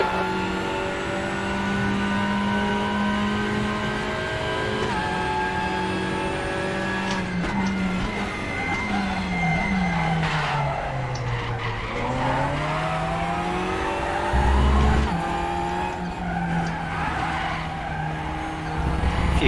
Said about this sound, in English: Enjoy the sound of the Hyundai 2021 TCR at the Nurburgring in RaceRoom